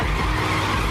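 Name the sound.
stolen car speeding off with tires skidding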